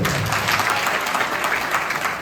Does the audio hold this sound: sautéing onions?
no